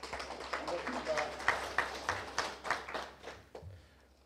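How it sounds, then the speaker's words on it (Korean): An audience at a Korean Pharmaceutical Association presidential election policy debate gives a scattered round of applause, with separate claps rising and fading in uneven bursts, fairly close and moderately loud. "큰 박수 부탁드리겠습니다"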